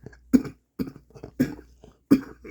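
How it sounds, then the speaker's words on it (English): A person coughs three times at close range, each a short harsh burst separated by brief pauses with faint throaty sounds between. "I've got a bit of a cough here."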